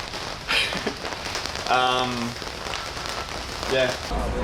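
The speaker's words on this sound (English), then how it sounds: "The rain's just getting heavier and heavier" Heavy rain falls steadily in Cambridge at night, a continuous broadband hiss of drops on surfaces, with brief voices speaking over it in places.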